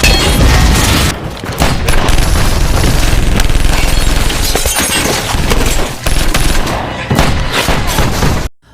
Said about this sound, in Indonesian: Farrell dan John diberondong peluru dari luar